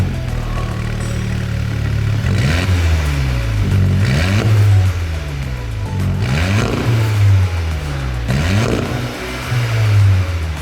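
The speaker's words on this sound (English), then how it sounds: "the back box delete is done on the Polo GTI. And now we're going to start it up, see what it sounds like." A VW Polo GTI with its exhaust back box deleted runs loudly close by, giving repeated rising revs in a steady rhythm over a throaty idle, with no one talking.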